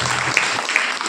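Congregation at a church prayer service clapping together, a short dense burst of applause with two sharper accents, filling the space at moderate loudness without speech.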